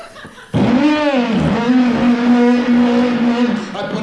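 A comedian imitates a car engine starting with his voice: a sudden loud vocal rev that settles into a long, steady, buzzing drone lasting several seconds, then tails off.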